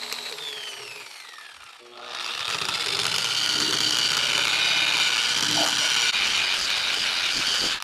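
Hercules variable-speed surface conditioning tool sanding a walnut slab: a rising motor whine at spin-up, then a loud, steady abrasive roar against the wood that runs to the end.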